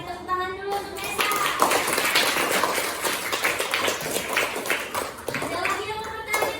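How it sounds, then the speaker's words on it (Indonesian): A classroom of students claps for a classmate named Nesa during a coaching session, scattered, uneven hand claps mixed with children's chatter and voices over the top. "Oke, tepuk tangan dulu untuk Nesa."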